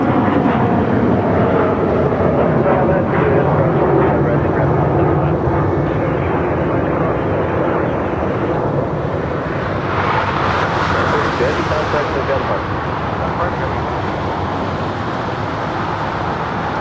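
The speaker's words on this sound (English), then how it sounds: "The ANA 777 making that left-hand turn onto taxiway Bravo" An ANA Boeing 777 taxis and makes a left turn onto a taxiway at Los Angeles International Airport, its engines a steady broadband rumble that swells and brightens partway through, heard from a distance alongside nearby traffic.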